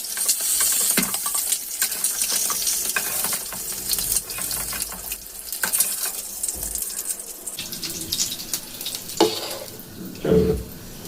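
Eggs and potatoes fry in hot oil with salt and turmeric, a steady sizzle broken by scraping stirs and occasional clinks of utensils, close and moderately loud.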